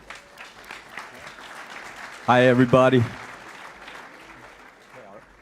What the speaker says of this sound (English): So big applause for Lawrence and thank you for being here.